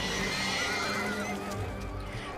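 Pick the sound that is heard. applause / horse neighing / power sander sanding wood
horse neighing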